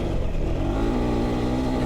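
A KTM 390 Adventure R motorcycle pulls hard at the top end, its engine a loud, steady drone close by for a short burst with no talk.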